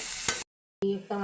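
Tomato dropped into a pan of frying drumstick bharta, with a brief burst of sizzle and stirring, a short silent gap, then renewed steady sizzling close by.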